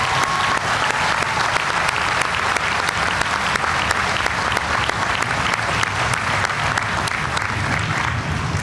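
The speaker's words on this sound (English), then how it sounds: "let's give them all a round of applause" Crowd applause at the commissioning ceremony for O'Hare Runway 10C-28C, steady and full for the whole stretch with no break in the clapping.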